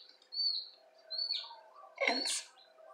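A newly hatched baby chick, assisted out of its egg, giving a few high, thin peeps and chirps, close and clear, with short pauses between calls and no talk.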